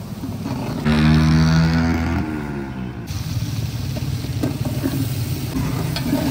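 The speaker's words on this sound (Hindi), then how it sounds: "अदरक को ब्राउन करने के बाद अभी शामिल कर लेंगे खड़े मसाले" Ginger and whole spices, including star anise, black cardamom, cinnamon, cloves and black pepper, fry in a pan for Lahori cholay, giving a loud, steady close-up sizzle with stirring and no talk.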